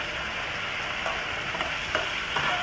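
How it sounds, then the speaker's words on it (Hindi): Chicken pieces fry in a karahi, giving a constant close sizzle with scattered pops and soft stirring clinks, fairly quiet and steady with no voices. "हम इसे फुल गोल्डन कलर आने तक फ्राई करेंगे।"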